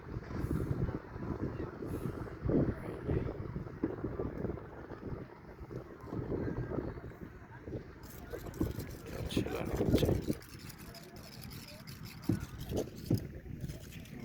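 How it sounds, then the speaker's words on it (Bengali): Strong evening wind on the Cox's Bazar coast of the Bay of Bengal roars and buffets the microphone in continuous gusts, with a voice speaking underneath. "প্রচন্ড বাতাস, সন্ধ্যাবেলা চলছে।"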